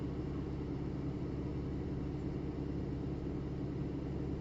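Turbocharged 2.34-litre engine fitted with a GTX3071R turbo held near 2,000 RPM, a steady, muffled low rumble without breaks or voices.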